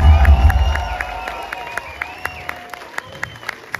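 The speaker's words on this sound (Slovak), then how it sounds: "Chcel by som vás poprosiť o jeden obrovský potlesk pre DJ a" A concert crowd at a club night in Bratislava claps for the DJ, steady applause and faint cheering under a rhythmic electronic beat with regular clicking accents and a deep bass swell at the start.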